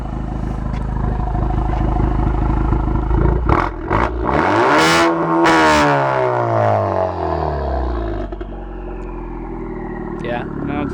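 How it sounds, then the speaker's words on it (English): Honda Civic Type R with a Remus Valvetronic exhaust, valves fully open, revved hard: a loud rising roar that peaks, then falls away as the engine drops back to idle. Voices talk before and after the rev. "So let me just rev it at 100."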